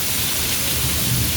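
A sudden heavy downpour roars steadily as a dense, broadband wash of rain, loud and continuous with no voices.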